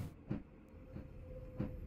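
In a British Railways game, a train crosses junctions with faint, evenly spaced rhythmic clunks of wheels over points beneath a low rolling rumble, with no voices.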